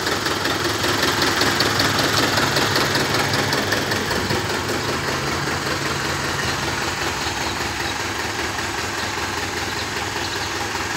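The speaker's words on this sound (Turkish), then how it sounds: "Evet, traktörümüz bu." A 1954 Minneapolis-Moline tractor engine idles steadily, a continuous close knocking chug with a dense even texture that holds unchanged for the whole stretch, with no talk over it.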